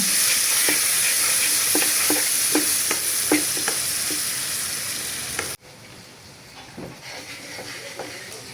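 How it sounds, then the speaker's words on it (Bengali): Sliced onions stir-fried in a wok, a steady close sizzle punctuated by regular scraping strokes of a spatula, the frying cutting off abruptly partway and continuing more quietly with occasional scrapes. "পেঁয়াজটা কিছু নাড়াচাড়া করে দিব।"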